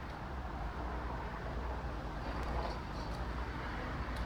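Saturday night street traffic heard from inside a moving vehicle, a steady broadband road roar with low rumble, no talking.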